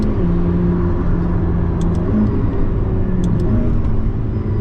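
A McLaren P1 engine roars loudly and continuously at close range under full throttle, its pitch climbing through gear changes as it accelerates hard.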